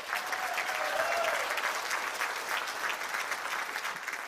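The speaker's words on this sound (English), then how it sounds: "So big round of applause for our Don Valley candidates in the next election." Audience applause for Conservative Party candidates from Don Valley at a live Q&A event in North York, a sustained wash of clapping from a room full of people, even and moderately loud.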